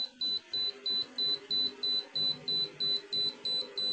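An EMF detector held near a running microwave oven beeps in a steady, even pulse, about three beeps a second, clear and close over a low background hum.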